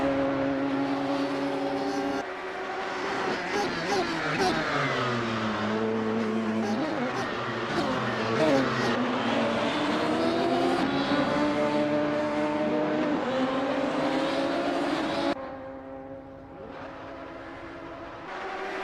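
Radical SR3 race car in Assetto Corsa screaming around Mosport, a loud high-revving engine climbing and dropping through gear changes and corners, with race commentary running over it before the sound cuts away near the end.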